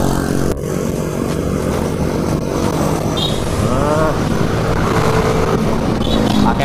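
A Pacific V electric bicycle on a test ride gives a continuous loud rush of wind and road noise throughout, with a voice faintly audible beneath it.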